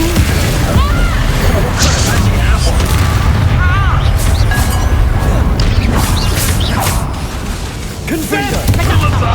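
Spell explosions from Confringo and Bombarda in Hogwarts Legacy, a dense barrage of booms and crashes with bursting impacts, loud and continuous, mixed with game voices and effects.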